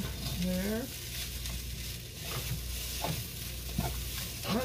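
Fried rice with chicken sizzling in a pan while a plastic spoon stirs it, soft occasional scrapes over a steady low sizzle, close and fairly quiet.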